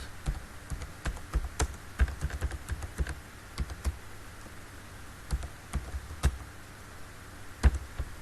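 Someone types on a computer keyboard in quick uneven bursts of close, crisp key clicks, with brief pauses between runs and no talking.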